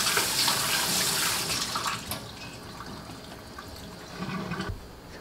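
Running tap water splashes and rushes for a few seconds while rinsing blanched food, loud at first then softer, with brief clatters near the end.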